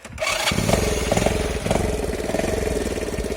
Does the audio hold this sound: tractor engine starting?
yes